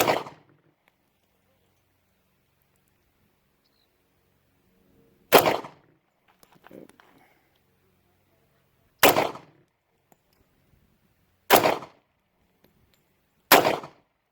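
Five loud, sharp shots from a Star PD .45 ACP pistol, spaced several seconds apart at a range, each a crisp crack with a brief tail and near silence between.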